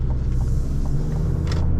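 A 2023 GMC Canyon pickup with an 8-speed automatic accelerating on the road, heard from inside the cab as a steady low engine and road rumble with faint creaks.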